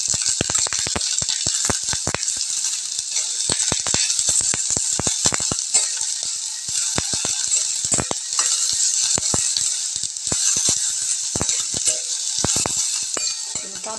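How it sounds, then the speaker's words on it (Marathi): Sliced coconut, cumin and coriander seeds roasting in a dry pan, a steady crackling sizzle with frequent sharp ticks and rattles of seeds and a spatula stirring, close and continuous with no talking. "जिरे आणि धने हे पण मी त्याच्यामध्ये भाजून घेते।"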